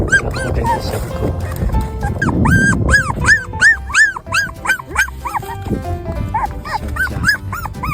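A stray mother dog guarding her puppies on a hillside barks and whimpers close by, repeated rising yelps and whines over rustling, with human voices mixed in.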